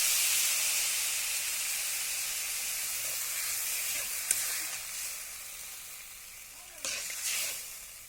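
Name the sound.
water added to lightly fried raw potatoes, sizzling steam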